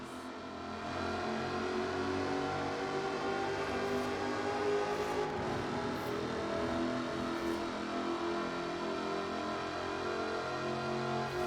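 A supercharged 5-litre V8 in an all-aluminium-bodied car in Forza Horizon 4 revs hard and drones loudly and steadily near at hand, holding a sustained high-revving roar from start to finish with no talking.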